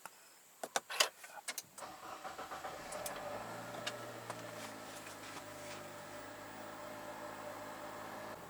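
A 2017 Nissan X-Trail 2.0 Aero Edition engine starts with a few clicks and a short crank burst, then settles into a steady, quiet idle hum inside the cabin.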